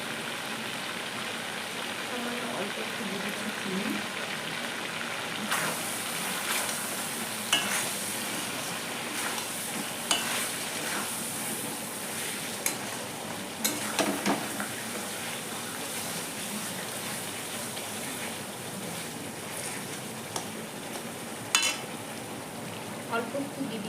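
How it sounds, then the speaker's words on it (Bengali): Potato pieces with Kashmiri red chilli, cumin and turmeric stir-fried in a pan: a steady sizzle runs throughout, broken by occasional scraping strokes of a spatula, close and moderately loud, with no speech. "আলু মশলা ভালো করে কষানো হয়ে গেছে"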